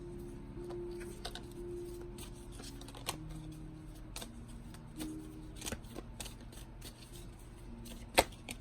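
Oversized tarot cards being shuffled by hand, a steady papery riffle and rustle running throughout with a few sharper slaps and one crisp snap near the end, close and fairly quiet.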